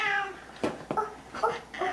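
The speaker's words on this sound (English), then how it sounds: "why do you think the kitty's making that noise?" A cat meows several times in drawn-out, complaining cries, close by and fairly loud, with brief pauses between calls.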